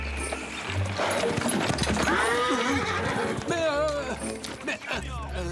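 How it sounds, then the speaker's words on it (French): Horses neigh and whinny repeatedly over clip-clop hoofbeats, loud and close, with music and voices mixed in an animated Zorro action scene. "Mais d'où ils sortent ces chevaux?"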